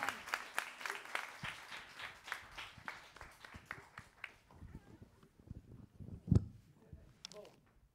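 A church congregation cheers and applauds, a burst of clapping that fills the room and then fades into scattered noise and a sharp knock near the end.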